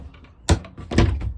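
A magnetic cupboard door closing inside a van, a sharp close thud followed by a second duller knock and rattle, heard up close.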